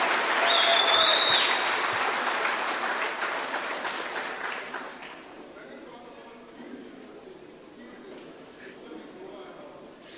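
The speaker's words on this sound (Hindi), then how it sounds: "जब मैं बोल रहा था सब ताली बजा रहे थे" A crowd at a political rally in Goa applauds loudly at first, and the clapping then thins and fades to a quieter patter, with a voice over it.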